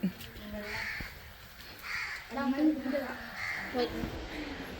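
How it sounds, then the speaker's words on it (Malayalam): Several harsh caws from crows ring out in a few bursts, mixed with a faint voice talking in the background, in Kozhikode. "എത്ര കാക്ക ഒക്കെ"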